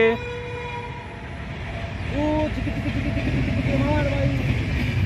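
A train passes near a riverside spot where people are fishing for tengra. Its low rumble swells after a couple of seconds, with tonal, horn-like wails rising above it and faint voices in the background.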